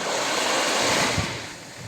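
Wind gusting on a Marseille beach with surf washing ashore, a loud, dense roar of rushing air and breaking water, buffeting the microphone and easing slightly toward the end.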